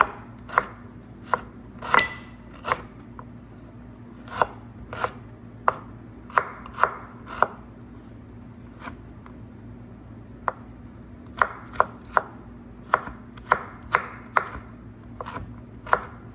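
A knife dices ginger on a cutting board for mushroom masala, sharp distinct chops in irregular bursts and steady runs, close and clear over a low steady background hum.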